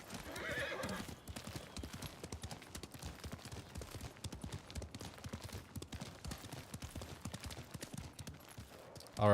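Horse hooves clip-clopping in a steady rapid rhythm throughout, with a whinny near the start, from a video game, heard fairly close and alone without talk.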